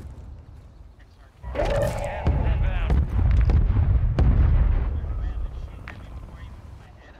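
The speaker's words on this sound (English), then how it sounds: "I hit him with a mortar." A mortar strike explodes in an online shooter game, a loud booming blast with a long rumbling tail fading over several seconds, while players talk over it.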